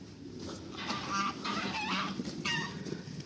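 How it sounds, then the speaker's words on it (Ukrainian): Several geese, just let out, honk and cackle in short bursts, fairly close, over a low background rumble. "Так, випустила гуси."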